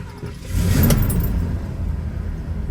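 A 1966 Ford Mustang coupe with a 289 V8 and an automatic choke starting up, a brief cranking rise that settles into a low, steady idling rumble, close by.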